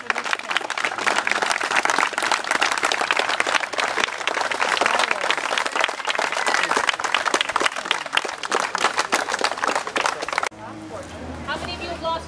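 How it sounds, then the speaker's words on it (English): Protesters at a rally in Beattie Park, Rockford, Illinois, applaud the youth with dense, sustained clapping and cheering for about ten seconds. The applause then stops and a voice begins speaking. "I would like a round of applause for the youth here today"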